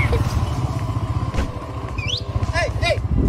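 Motorcycle engine runs steadily at close range during a federal highway police stop, its rumble continuous throughout while short bird-like chirps break through.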